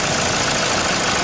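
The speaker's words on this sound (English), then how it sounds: "once the motor is running" A Toyota Hilux engine running just after a jump start: a steady, loud, broadband mechanical drone with no variation, close up and continuous with no voices.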